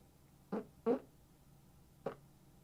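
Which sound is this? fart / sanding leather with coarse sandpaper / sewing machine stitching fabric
fart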